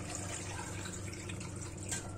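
Water being added to mutton nalli (lamb shanks) cooking in a pot, a steady close splashing pour lasting the whole moment with no voices.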